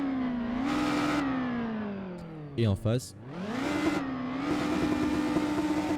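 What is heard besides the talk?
video game car engine and exhaust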